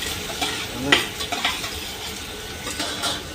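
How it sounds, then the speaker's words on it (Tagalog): Noodles and tuna cook on board a ship at night, giving a steady frying sizzle broken by a few clinks and scrapes of utensils on a pan, all fairly close. "Magluluto pala kami ng noodles tsaka tuna."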